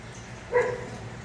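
A single short bark from a female dog, heard once indoors at moderate volume over a quiet background hum, with nothing else following.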